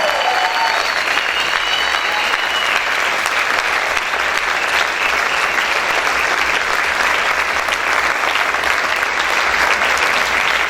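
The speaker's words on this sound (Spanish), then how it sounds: "Aplaude, aplaude, aplaude fuerte al Señor" Loud, sustained clapping from a church congregation during worship praise, thick and unbroken for about ten seconds, with a faint tonal note briefly audible at the start.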